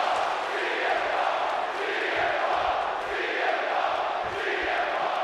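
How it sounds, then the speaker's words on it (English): Arena crowd in the WWE 2K26 wrestling video game, a Chicago audience for a CM Punk versus Eddie Guerrero match, roaring in a steady, dense wash that swells and ebbs slightly throughout without letting up. "And just listen to this crowd here in Chicago. They are feeling the heat indeed."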